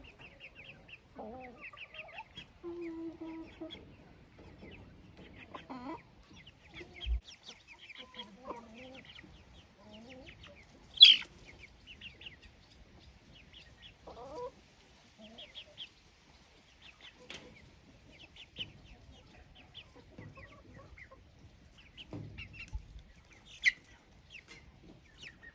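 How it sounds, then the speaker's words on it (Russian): Hens cluck in scattered, fairly quiet calls close by, with a broody hen among chicks; the clucks come in short irregular bursts with brief pauses between them. "Обратите внимание, квочка начала бить цыплят."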